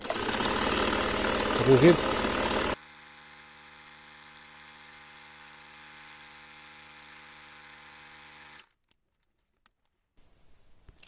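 A Bernina 831 zigzag sewing machine runs briefly at the start with a loud, fast whirring buzz under a spoken voice. It then stops, leaving a faint hum before near silence.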